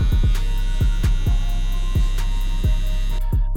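Electric hair clipper running steadily during a low fade haircut, a close constant motor hum with a regular series of soft thumps as the blade works along the head.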